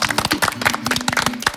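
A small group claps together in a lively burst of applause on a television program, with dense, quick, overlapping hand claps throughout and no talking.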